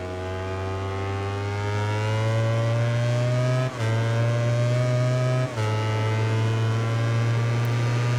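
Aprilia racing motorcycle engine in the MotoGP 19 video game, a loud sustained high-revving drone held nearly steady with two brief dips for gear shifts, no talking.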